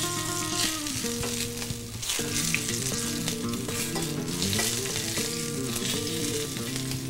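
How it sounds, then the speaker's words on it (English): Ground beef sizzles and crackles steadily in a hot pan, a constant frying hiss while tonal music plays alongside. "Ground beef is cooking really fast."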